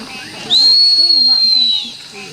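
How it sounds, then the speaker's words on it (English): A single sustained high whistle rings out for over a second, clear and fairly loud, with a low murmur of voices underneath at a summer camp. "Suddenly, a whistle sounded from below."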